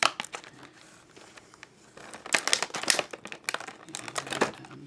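Plastic toy packaging crinkles and crackles as it is cut and pulled apart to free a Masters of the Universe Classics Catra action figure, with close bursts of crumpling and a few sharp snaps.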